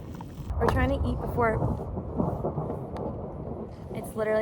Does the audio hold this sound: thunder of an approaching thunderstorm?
yes